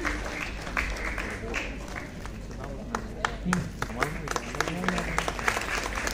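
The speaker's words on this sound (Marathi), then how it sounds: "टाळ्यांचा गजर." Applause from a national environmental conference audience in an indoor hall, steady crowd clapping throughout with scattered sharper claps and faint voices mixed in.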